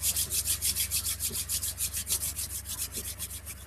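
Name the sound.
hands rubbing together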